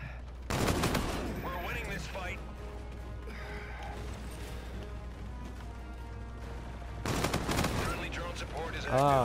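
A KBAR-32 assault rifle in Infinite Warfare fires in two rapid bursts, one early and one late, each loud and sharp against quieter in-game ambience, with a person talking between the bursts.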